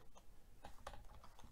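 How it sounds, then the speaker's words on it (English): Keys clatter on a computer keyboard while a command is entered during a RetroPie setup on a Raspberry Pi, a quiet, close run of quick, uneven taps. "I'm just typing"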